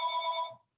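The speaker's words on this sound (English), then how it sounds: "sorry for the phone here." A telephone gives a single bright electronic ring, close by and clear, that stops abruptly and leaves silence after it.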